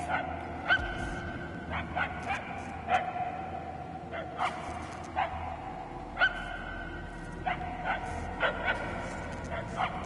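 In the Guardians of the Galaxy video game, a hidden dog barks and yips in scattered clusters over a low droning ambience, the barks sounding somewhat muffled and distant with brief gasping or whimpering sounds between them.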